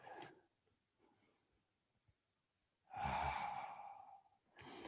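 A person in Sphinx yoga pose draws a soft breath, then releases a long, audible exhale like a sigh, close and fairly quiet, with another breath starting at the end.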